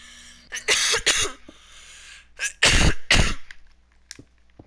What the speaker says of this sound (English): Nice cough.